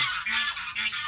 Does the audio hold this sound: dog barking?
no